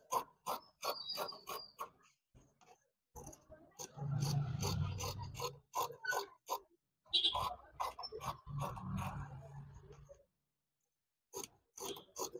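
Scissors slicing blouse fabric along a cross cut give steady rasping strokes in several separate runs with short pauses, close by, and a few quick taps in between.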